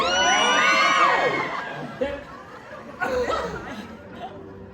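An audience at a horror make-up stage show screams together on cue in a loud, sustained burst, then breaks into scattered shrieks, whoops and laughter that fade and flare again.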